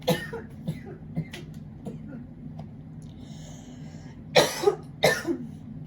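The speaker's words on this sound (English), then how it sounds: "With me just coughing" Two or three sharp, close coughs near the end, after a stretch of quiet room noise with faint shuffling.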